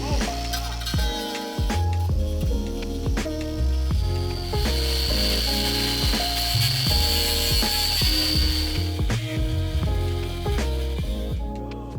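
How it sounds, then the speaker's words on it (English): Harbor Freight angle grinder cutting out a stripped bolt on a Volvo V70 wagon engine swap, a loud continuous grinding whine with rough rattling and scraping texture throughout, close and steady. "there's no problem that a Harbor Freight angle grinder can't fix, and I decided to try and completely just cut this bolt out"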